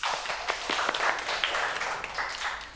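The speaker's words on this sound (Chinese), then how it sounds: "大家掌声鼓励鼓励" Classmates in a classroom clap for a student who scored full marks on a test, a dense, steady patter of many hands sustained throughout at moderate loudness.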